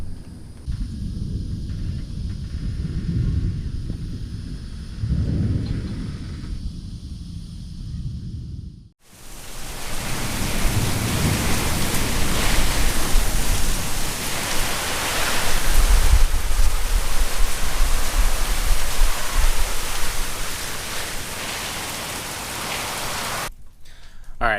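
Steady heavy rain hisses broadband, quieter at first, then a sudden louder downpour that drums on nearby surfaces for most of the clip.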